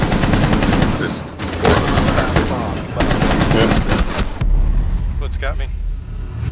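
Loud, dense automatic gunfire in the video game Rainbow Six Siege, with rapid continuous bursts and a brief lull before more scattered shots near the end, as a voice talks over the action.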